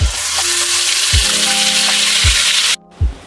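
Spice paste for a Bengali Gondhoraj chicken dish hits hot oil in a pan, giving a loud, steady broadband sizzle with a few low thuds, then a sudden drop to quiet near the end.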